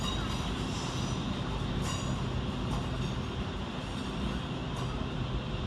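Two East Midlands Railway Class 316 units, 316-111 and 316-104, pull out of London St Pancras on a Corby service, with a steady rumble of wheels and faint squeals ringing through the station.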